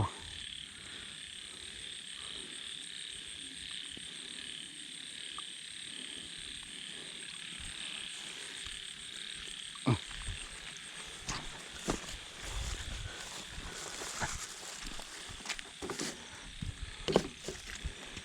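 Frogs croak at night in steady rain during a frog hook-fishing outing. Soft, scattered croaks and knocks sit under a constant rain hiss, growing busier and closer toward the end.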